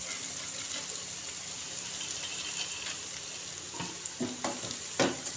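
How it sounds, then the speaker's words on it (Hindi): Steady sizzle of masala frying in a wok, close and fairly quiet, as boiled mash dal is added, with a few wet splats and clanks of stirring near the end and no speech. "सारी दाल को अच्छे से हम डाल देंगे कढ़ाई के अंदर"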